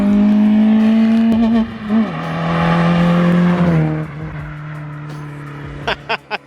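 Citroën Saxo VTR engine and exhaust revving hard, a loud raspy drone climbing in pitch then dropping between gears, easing off to a lower burble with a few sharp blips of the throttle at the end.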